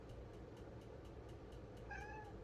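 A single soft, plaintive cat meow rises near the end over a steady low hum, fairly quiet and close by.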